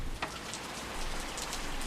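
Rain falls steadily on outdoor surfaces in a soft, even hiss with a few sharper drop taps, fairly close and alone, with no voices.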